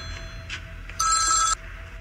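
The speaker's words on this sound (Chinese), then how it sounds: "阿姐，我接一下电话。" A telephone rings indoors with a single bright electronic trill lasting about half a second, clear and close over a low background hum.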